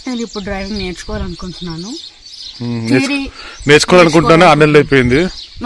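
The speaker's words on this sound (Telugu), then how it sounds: "మా దగ్గర బర్డ్స్ కొంచెం ఎక్కువ" Birds chirp outside a home in short, bright bursts, heard faintly behind a person talking steadily throughout.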